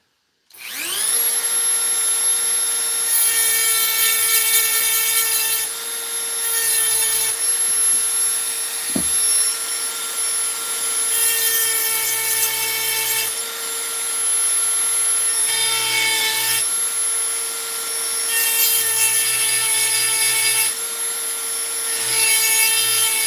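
A saw blade cuts into a metal vise with a loud, sustained, high-pitched whine. The tone stays steady and close, while a lower grinding texture repeatedly drops in and out as the blade bites.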